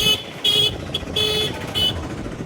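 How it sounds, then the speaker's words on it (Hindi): Several short horn honks from a scooter sound in bursts over steady traffic noise, loud and close, with a brief gap between each blast. "यहाँ पे हॉर्न मारने पे कोई हटता नहीं है"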